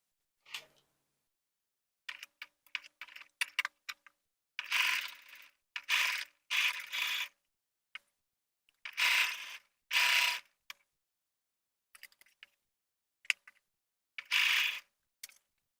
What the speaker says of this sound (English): I'm going to sew along this line I just drew